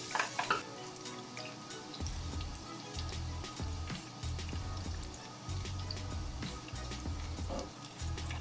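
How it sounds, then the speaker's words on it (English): Garlic sautéing in hot oil in a home kitchen while Jamaican steamed callaloo is being made, a close, continuous crackling sizzle broken by dense pops and spatters, with a low rumble surging on and off beneath it. "in my garlic and just let it saute for about 1 to 2 minutes"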